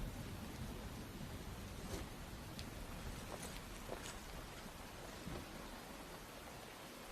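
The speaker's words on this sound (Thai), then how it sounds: "ตอนนี้ มีฝนตกหนัก" Heavy rain in a Chinese period drama scene, a dense, steady hiss of downpour filling the whole clip with faint scattered taps and crackles, no voices.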